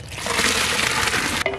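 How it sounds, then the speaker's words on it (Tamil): Lentils poured into boiling water for sambar, a loud, rushing splash and gush of liquid close by, steady for over a second before a sudden cut-off, with a brief clatter at the end. "சாம்பாருக்கு தண்ணி நல்லா கொதிச்சு போயிட்டு இப்ப பருப்பு சேர்த்துக்கலாம்."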